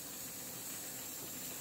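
Spices temper in hot oil for a tadka for Himachali palda, a steady close hissing sizzle holding evenly throughout without speech.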